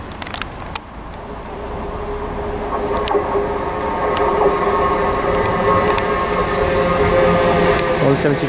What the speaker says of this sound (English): arriving here now is the 1356 ScotRail service to Dunblane from Edinburgh